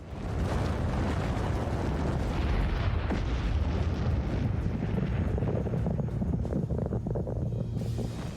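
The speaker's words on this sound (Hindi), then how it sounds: "atom bomb," A long, loud roaring rumble from an atom bomb explosion sound effect, dense and sustained throughout with deep low-end weight and a wind-like rush, no pauses or talk.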